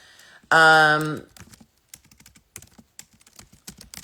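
Fingers tap on a computer keyboard in a quick, irregular series of light clicks, close and fairly quiet, after a short burst of vocal sound at the start.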